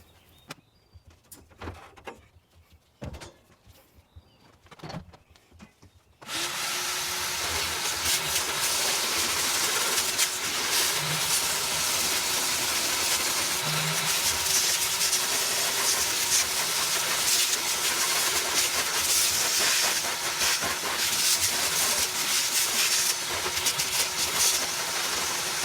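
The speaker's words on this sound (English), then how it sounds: "if I take my scraper and follow along behind it with my shop vac" A shop vac cleans out a Traeger Pro 34 pellet grill as a scraper works underneath; after a few quiet scrapes and knocks, the vacuum starts abruptly and roars loudly and steadily through the rest.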